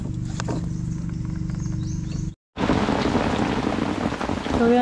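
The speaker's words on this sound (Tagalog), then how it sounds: "sobrang lakas ng ulan" Heavy rain pours steadily with a loud hiss, briefly cutting out before resuming just as strong.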